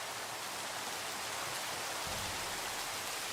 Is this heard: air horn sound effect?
no